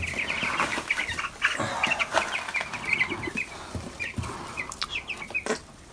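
Many 14-day-old broiler chicks peeping in high, rapid chirps close by, with scattered thumps and rustling among them.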